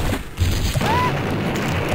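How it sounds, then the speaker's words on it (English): A single low boom from an explosion in the first-person shooter Blood, heavy and close within a dense game mix, with a short rising whistle-like tone just after the blast. "And you survive an explosion."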